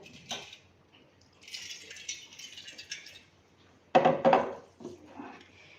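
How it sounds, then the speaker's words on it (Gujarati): Rice is washed by hand in water, with intermittent sloshing, rattling grains and short splashes in quiet surroundings. "હવે આપણે ચોખાને 3 પાણીથી ધોઈ લેશું"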